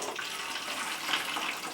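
Hydrogen peroxide pours steadily into a bottle during a chemistry demonstration, a continuous close liquid stream with a faint gurgling rise, no talking.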